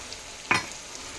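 Curry base of onion, ginger garlic paste and tomato paste fries in a pan, a soft steady sizzle with one brief sharp scrape of a stirring spoon.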